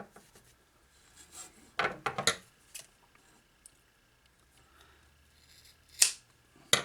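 Scissors cutting paracord for Jeep Wrangler door pulls make a few crisp snips and crunches, close and quiet, with a clustered pair of cuts early and another sharp snip near the end among light handling noises.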